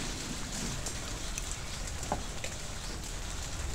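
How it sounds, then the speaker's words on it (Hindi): Rain beginning to fall outdoors, a steady soft hiss of drops with a few faint patters on surfaces, fairly quiet and continuous with no talking. "ये देखो बारिश आनी स्टार्ट हो गई है"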